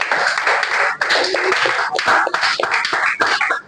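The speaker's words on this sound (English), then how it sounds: "Please, let's applaud them." A room applauds a student team after their demonstration at a SIWES presentation session on safe AI, with steady, loud clapping from a nearby audience that briefly dips and resumes.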